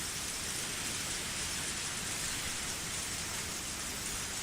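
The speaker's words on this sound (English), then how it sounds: "Even in this torrential downpour" Heavy, steady video-game rain pours down in a dense, continuous hiss, loud and unbroken throughout with no voices.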